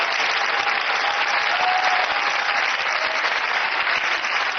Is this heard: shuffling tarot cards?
no